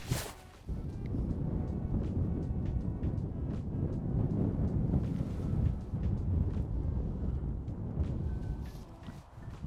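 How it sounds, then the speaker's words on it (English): Wind blowing across an open golf course, a steady loud rumbling buffet that hits the microphone continuously with gusting swells and no speech. "So the wind's picking up a little bit."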